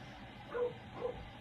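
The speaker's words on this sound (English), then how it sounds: "And there goes the dogs again upstairs." Two faint, brief barks from dogs upstairs, muffled and distant, spaced about half a second apart against a quiet room.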